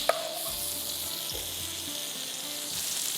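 Chopped onions sizzle on a hot tawa, a steady close crackling hiss that runs through the whole moment, with a faint clink at the start and a couple of soft low thuds.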